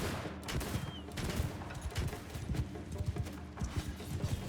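Gunfire in the samurai battle game Shokuho, a shot aimed at an enemy lord amid a busy battlefield with galloping horse hooves and scattered musket fire, dense and continuous at moderate distance.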